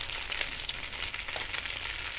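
Salmon cakes fry in a pan with a dense, steady crackling sizzle up close while they are flipped, with no voices over it.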